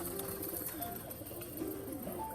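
Soft, low pigeon cooing repeats over a constant background hum, close by and fairly quiet.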